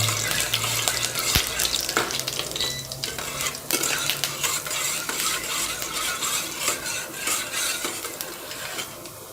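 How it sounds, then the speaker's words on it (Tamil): Ingredients sauté in a pan until golden brown, with a constant hiss of frying oil under repeated scraping and clinking of a spoon stirring against the pan, close and continuous, no talk. "இந்த மாதிரி வதக்கிக்கோங்க நல்லா பொன்மருவலாக வதக்கிடணும்"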